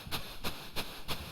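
Commodore 64 game sound of running while carrying loot: four evenly spaced bright bursts, each a short hissy chirp, repeating in a steady quick rhythm at moderate, close level with no talking.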